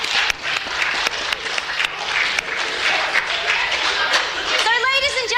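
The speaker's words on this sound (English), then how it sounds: "Another round of applause." Applause and clapping from a festival audience at a space-themed science event, a dense sustained patter lasting several seconds, with cheering and chatter mixed in and a voice rising near the end.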